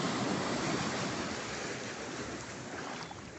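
Surf washes continuously onto Calhetas beach at Cabo de Santo Agostinho near Recife, a broad steady roar of breaking water with some wind buffeting, gradually easing slightly, no voices.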